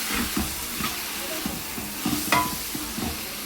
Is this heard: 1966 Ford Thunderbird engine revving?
no